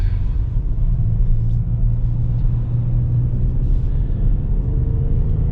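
A lifted Kia Telluride SUV cruises down a road, giving a continuous low cabin rumble and road noise heard from inside at a steady level with no speech.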